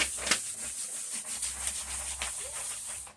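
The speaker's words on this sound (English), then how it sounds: "now we got to varnish that on really good" Varnish being brushed onto a DIY décor piece decorated with transfers: soft, close rubbing strokes in an uneven rhythm over faint hiss, with no talk.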